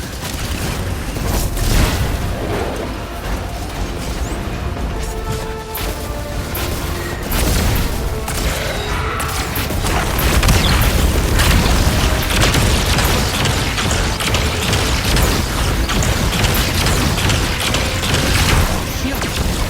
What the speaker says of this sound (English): Vex mine incoming!